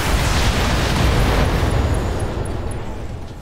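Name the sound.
mech alpha strike weapons fire in video game Battletech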